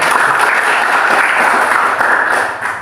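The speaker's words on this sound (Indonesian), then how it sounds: "Beri aplaus sama temannya." Students applauding in a classroom, with dense, loud, steady clapping that carries on throughout and tapers slightly toward the end.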